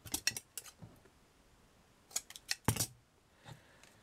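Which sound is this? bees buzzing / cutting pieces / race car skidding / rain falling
cutting pieces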